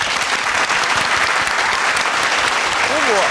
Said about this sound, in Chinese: 我觉得我们要给你爸爸一个掌声